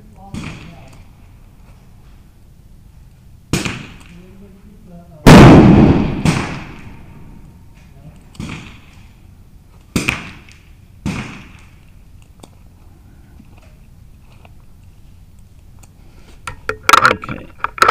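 Several sharp .22LR rimfire rifle shots at a club benchrest match with match ammo, spaced irregularly several seconds apart, the loudest near the middle, with a few quicker cracks at the end amid quiet background.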